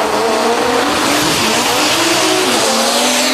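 A Rowdy Race Labs drag race car driven by Kyle Seibert at the DCT World Cup, heard as a loud, continuous engine roar with a rising whine sustained throughout, no voices over it.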